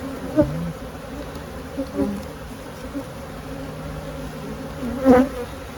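Agitated honeybees swarm over an opened hive frame, filling the air with a dense, steady buzz close by, with a few louder swells as individual bees fly near.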